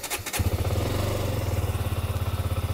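A 2018 KTM 125 Duke single-cylinder motorcycle starting from completely cold: a short electric starter whir, then the engine catches and settles into a close, loud, steady pulsing idle.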